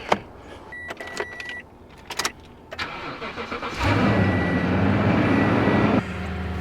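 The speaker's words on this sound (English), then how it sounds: "let's get this truck fired up" A pickup truck engine cranks and catches, then settles into a steady, loud idle as it warms up, preceded by a few clicks and door or latch sounds nearby.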